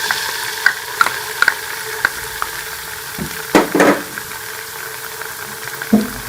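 Chili sauce hitting garlic frying in a pan, with a steady sizzle and a few sharp clinks and scrapes of a spoon stirring, one louder splash of hissing partway through.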